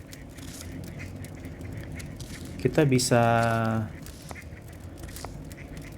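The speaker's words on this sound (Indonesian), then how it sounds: "suara bebek gitu ya." Duck quacking played as an ambient sound from an earbuds app, heard as a short burst of quacks near the middle over quiet background noise, with a voice speaking briefly.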